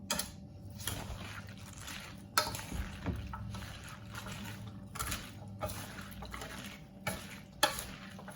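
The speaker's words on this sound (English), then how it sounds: "I'm just gonna use my tongs to stir, stir, stir, make sure everything gets in there nice and beautiful" Tongs stirring turmeric pineapple sauerkraut in a bowl, with soft wet squelches and scattered clicks of metal against the container at an irregular pace.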